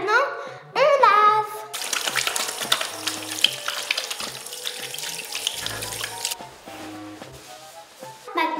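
A tap runs steadily into a sink while hands are washed with soap and water, a continuous close splashing hiss lasting several seconds, with a brief voice and other faint sounds before and after.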